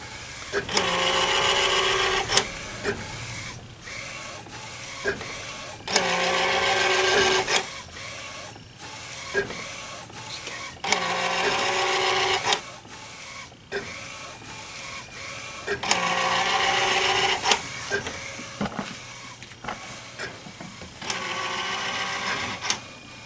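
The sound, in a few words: DTG printer's pressurized system pushing ink while printing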